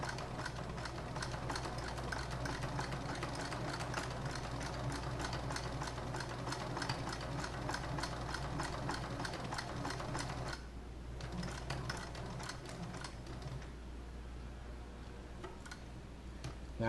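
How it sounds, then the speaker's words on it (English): A sewing machine stitches a leather shoulder bag close to the edge, running in a steady, rapid mechanical rhythm for most of the stretch, with a brief pause and a softer, slower stretch near the end. "I'm sewing as close to the edge as possible"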